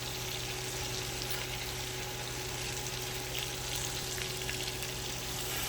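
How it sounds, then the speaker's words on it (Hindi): Water poured into a pan of frying potatoes for chicken rice, giving a steady, even sizzle and hiss with no talking. "तो अब हम इसमें ऐड करेंगे पानी।"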